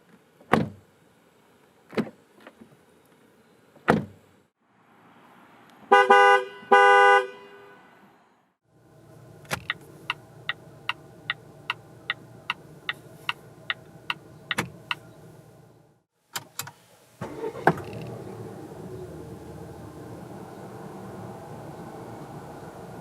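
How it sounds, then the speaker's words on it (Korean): Volvo S60 interior and exterior sounds: sharp door and button clunks, a double horn toot, a rapid series of clicks, then the whirring hum of power windows running, ending in a steady motor drone. "잠시 S60에 들려주는 감성 측면의 소리를 들어볼까요?"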